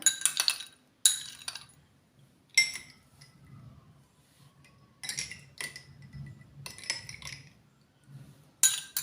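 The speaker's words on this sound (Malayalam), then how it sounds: "ഇനി ഐസ് ക്യൂബും കൂടി ഇട്ട് കൊടുക്കുകയാണ്" Ice cubes drop into a glass of raw mango drink, producing bright, close clinks in short clusters, with quiet gaps between each handful.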